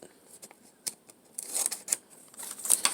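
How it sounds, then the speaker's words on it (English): Scissors snip along the fold of a folded paper rectangle during a craft project, a series of short, quiet crisp cuts in uneven rhythm, close by with no talking. "I'm going to cut this line that I folded."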